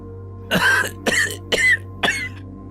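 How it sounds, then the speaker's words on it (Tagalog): Four separate coughs, evenly spaced about half a second apart, close and fairly loud against a steady low hum. "inuubo ka na naman"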